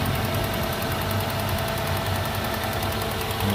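A 2000 Toyota Soluna XLi engine idling smoothly, heard up close as a steady, even hum with a faint regular ticking, constant in level and alone.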